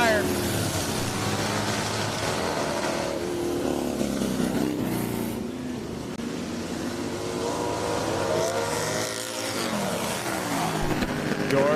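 Flat track motorcycles race at night in Ashland, Virginia, their engines roaring loud and continuous as they rise and fall in pitch through the laps. An announcer talks over the noise.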